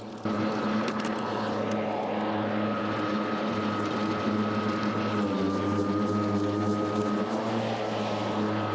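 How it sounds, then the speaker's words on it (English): An ECHO DLM 2100SP lawn mower runs steadily while mulching tall grass, its engine giving a loud, constant droning hum with a faint whine, close and unbroken throughout. "We're gonna test the mulching capabilities of this mower."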